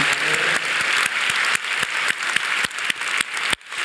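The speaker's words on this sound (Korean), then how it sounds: "한 주간 은혜 주신 하나님께 박수로 영광 돌립니다" A church congregation applauds during a worship service, a full, close wash of clapping with a loose, regular pulse of sharper claps running through it, ending abruptly.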